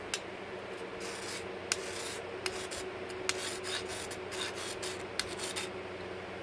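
A round file rasps across the steel blade of a Windlass 1860 light cavalry saber, a close, quiet grinding drag marked by a few sharp ticks of metal contact.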